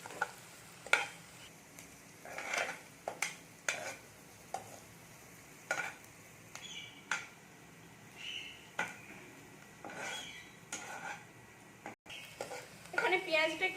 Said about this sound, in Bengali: দিয়ে এইটাকে আমি একটু ভেজে নিচ্ছি খুব বেশি ভাজবো না